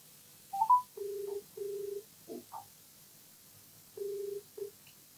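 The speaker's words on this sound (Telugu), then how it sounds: "ఒకసారి రాజేశ్వరి గారు కాల్ చేస్తానండి" Touch-tone telephone keypad beeps dial a call, a series of short, evenly pitched tones in small groups with brief pauses, clear and close in an otherwise quiet room.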